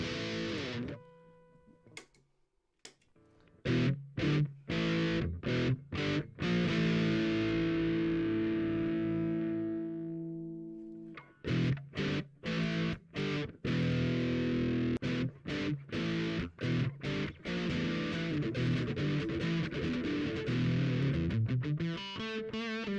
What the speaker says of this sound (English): you got an overdrive pedal and you have a crunch distortion pedal